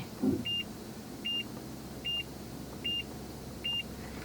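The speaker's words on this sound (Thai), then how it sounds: "เสียงที่เราได้ยินเมื่อกี้คือเสียงของเซ็นเซอร์" Five evenly spaced electronic beeps from a Mazda CX-3's reversing parking sensor sound at a steady pace over a low idling car hum, fairly quiet with no talking.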